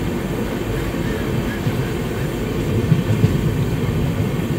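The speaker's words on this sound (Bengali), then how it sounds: "ট্রেন যাচ্ছে।" Sairang Kolkata Express runs along with a steady low rumble and rattle, heard from on board as an even drone with slight bumps.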